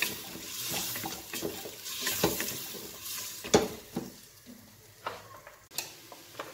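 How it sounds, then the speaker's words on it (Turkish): Onions and meat sautéing in a pot with stirring, a soft sizzle broken by scraping clinks and several sharp utensil knocks against the metal, nearby with no voices. "Soğanımızı etimizin üzerine ekliyoruz. Ve soğanla eti kavurmaya devam ediyoruz."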